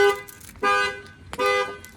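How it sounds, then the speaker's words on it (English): Factory alarm of a 2020 Ford Explorer going off: loud, close, repeated horn-like blasts, three long tonal pulses in a steady on-off rhythm. "The alarm will fire off."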